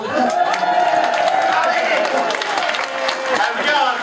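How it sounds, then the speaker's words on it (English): A crowd at a Gatorland alligator wrestling show breaks into applause and cheering, with clapping, scattered whoops and excited voices mixed together, fairly close and sustained. "And the crowd goes wild."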